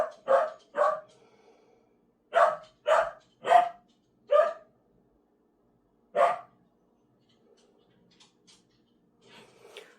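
Dogs barking indoors in a home, a few sharp separate barks in short bursts with pauses between, close and fairly loud, then a quiet stretch with faint soft sounds.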